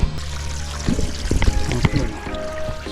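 Water flows steadily out of a pool pump being primed to clear a clogged line, a continuous trickling pour with some bubbling, heard close up.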